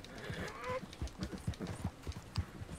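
Horse hooves in the video game Red Dead Online clip-clop at an unhurried walking pace, each beat fairly soft and distinct, with a faint higher sound early on.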